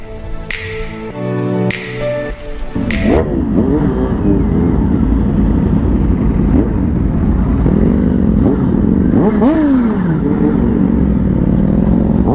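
A CX-10R motorcycle on a group weekend ride runs with a steady engine drone that rises and falls as the rider shifts and revs, loud and close, after a few sharp clicks and a short buzzing tone at the start.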